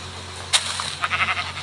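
A goat in a video game gives a few short, faint bleats over a low constant hum, with a quick burst of sound before them.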